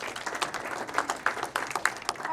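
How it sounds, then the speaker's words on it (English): An audience at a venture investing panel in New York claps for the panelists, with a short burst of scattered, fairly close handclaps in an uneven rhythm. "a round of applause for these absolute rock stars"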